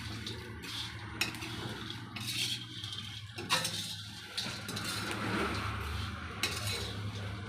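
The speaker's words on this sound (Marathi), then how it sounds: "कढई गरम आहे करपट होऊ नये याच्यासाठी जरा हलवून घ्यायचं आहे" Roasting spices stirred in a hot kadhai for dark spicy chilli masala: scattered metallic scrapes and clinks of a spatula against the pan over a low background hum, fairly quiet and irregular.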